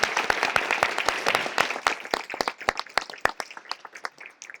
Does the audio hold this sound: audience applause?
yes